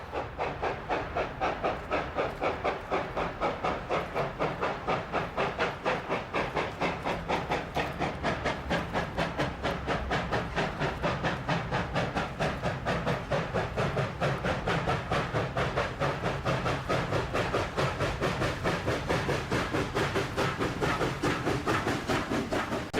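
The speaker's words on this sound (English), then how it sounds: "Near Ruby Creek Tunnel, the XSP 2353 is working upgrade." XSP 2353 steam locomotive, with an Alco RS-32 diesel on the point, working upgrade near Ruby Creek Tunnel: a steady, loud rhythmic chuffing and rumble that carries through the whole stretch with no talk.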